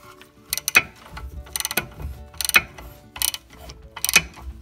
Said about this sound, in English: Now we'll go ahead and tighten up the top bolt here.